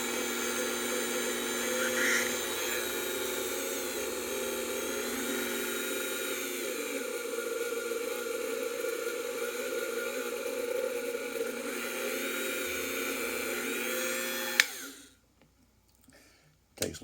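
A steady high-pitched power drill whirs continuously for about fourteen seconds while drilling into a lock key pin, then cuts off abruptly, leaving near silence.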